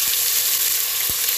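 A spoonful of ginger garlic paste fries in a pan for tomato bath, a loud, dense, continuous sizzle heard close up, with a couple of soft low knocks and no talking.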